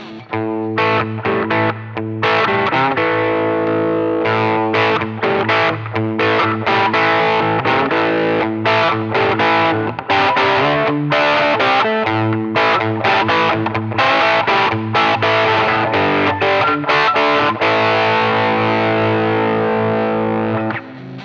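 A loud distorted electric guitar through an Origin Effects M-EQ Driver overdrive with mids boosted at 800 Hz, playing sustained chords and riffs continuously, thick and gritty.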